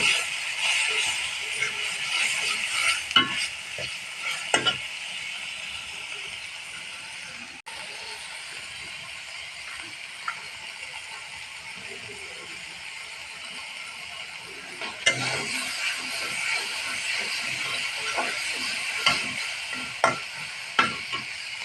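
A pan of frying food seasoned with cumin paste, turmeric and salt gives a steady, close sizzle, broken by scraping stirs and sharper clatters, with louder bursts of stirring near the start and again past the midpoint.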